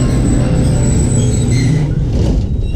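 Loud, steady rumble of a train at Panjgarai railway station in desert country, continuous heavy rolling noise with faint high whine throughout, no voices.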